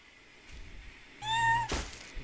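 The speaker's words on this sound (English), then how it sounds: "This cat is no good." A cat in the Garry's Mod video game gives a single short, clear meow, followed by a brief thud, over faint background noise.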